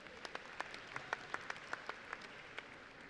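An audience claps at a stallion inspection, scattered individual claps sounding at a moderate distance over a low hum of the hall.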